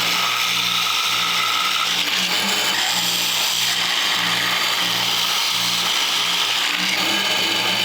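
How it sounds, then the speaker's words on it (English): A foot-switch drill bores holes through a classical guitar neck, giving a loud, continuous mechanical whir with a rhythmic ratcheting pulse that stays close and steady, with no voices. "I'm going to turn this on, drill one side, and then flip it around and drill the other side"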